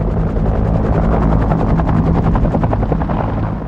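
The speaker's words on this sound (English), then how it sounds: "Bell Helicopter's Huey" A Bell UH-1 Huey helicopter flies close by, its rotor thumping in a fast, even beat over a loud, steady engine roar that lasts from start to finish.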